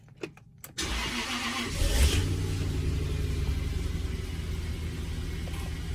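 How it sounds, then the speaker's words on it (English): A car engine cranks and catches after a short pause, then runs with a steady, loud rumble, briefly revving before settling into an even idle. "I'll turn the engine on."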